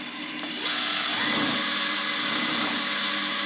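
A Decastar 150E welder's wire feed motor runs steadily, a continuous whirring hum that starts quietly and steps up in level, with no voices.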